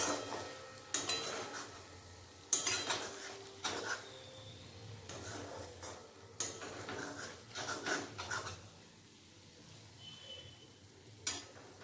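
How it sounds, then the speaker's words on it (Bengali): A spatula stirs vermicelli pulao in a pan, giving soft intermittent scrapes and clinks against the metal, with quieter pauses between strokes and no voices. "এরপর আমি খুন্তিতে নেড়ে নেব"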